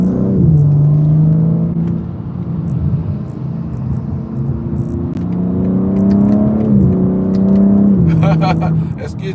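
A car engine hums and drones steadily while being driven, with gear-like pitch shifts as it speeds up and eases off, loud and close, with faint clicks near the end.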